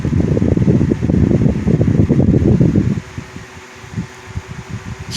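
A restored 1998 Holmes HAWF-2020N window fan runs close by with a fluttering whir that drops abruptly to a quieter, lower hum partway through.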